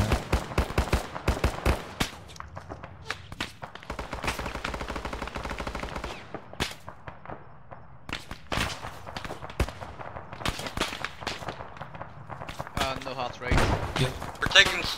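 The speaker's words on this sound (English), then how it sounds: "Sporadic fire from the north and northeast as well." Scattered gunshots and bursts of automatic fire crack out irregularly across a military-shooter battlefield in Arma, some close and sharp, others more distant, with voices talking in between.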